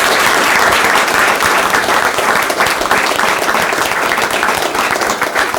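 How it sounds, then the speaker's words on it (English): A city council meeting audience in Waterloo gives a round of applause for young community members, loud and dense, sustained evenly throughout. "So can we give them a round of applause?"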